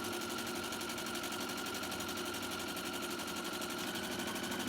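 A sewing machine stitching a curved seam on a fabric face mask, running slowly as a steady, rapid mechanical whir with an even pulsing rhythm, close and continuous, with no talk.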